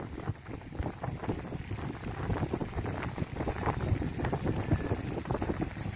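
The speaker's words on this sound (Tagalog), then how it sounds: "lakas ng hangin" Strong typhoon wind roars and buffets steadily over open sea off Ticao Island, a dense, continuous rush with gusty bursts throughout and no voices.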